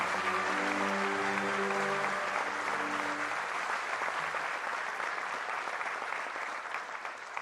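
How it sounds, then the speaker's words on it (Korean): Audience applause at a Korean National Police Day ceremony after the president's address, a steady wash of many clapping hands lasting several seconds and slowly thinning, with a sustained musical tone under the first half. "큰 박수를 부탁드리겠습니다"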